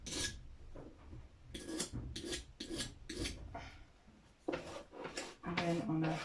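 A new round knife blade is sharpened on a stone, giving repeated rasping strokes in a fairly even rhythm, close and moderately quiet, with brief pauses between passes.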